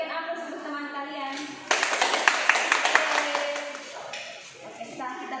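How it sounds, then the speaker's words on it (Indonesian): Primary-school pupils in a classroom break into a burst of applause for their classmates, several seconds of dense, lively clapping that swells and then fades, with a teacher's voice heard before and after. "Berikan aplaus untuk teman kalian."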